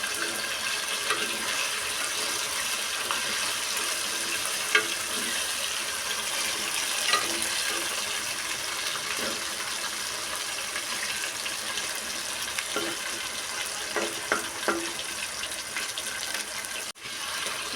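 Chicken pieces fry in a pan of hot oil, giving a continuous dense hiss with scattered small pops, steady and close throughout.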